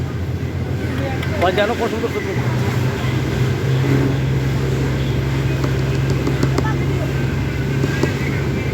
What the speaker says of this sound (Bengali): লঞ্চ স্টার্টিং হয়ে গেছে লঞ্চ সামনের দিকে আগাইতেছে